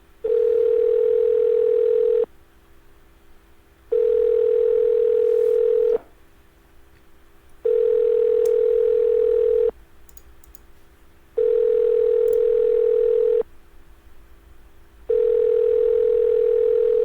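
A telephone call rings out: a loud steady tone sounds in five long bursts of about two seconds, each followed by a short quieter gap.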